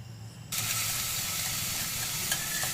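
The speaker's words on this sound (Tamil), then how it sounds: "கருவேப்பிலை ஆட் பண்ணியாச்சு" Curry leaves dropped into a hot pan for mint rice erupt into a sudden, loud, steady hiss of sizzling oil that continues without a pause.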